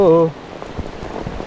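A short voiced exclamation opens, then heavy summer rain carries on alone as a steady, moderately loud patter and hiss falling onto leaves and waterlogged ground.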